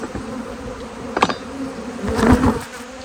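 Honey bees buzz at a beehive in a steady, close drone, with a few louder swells as individual bees pass near.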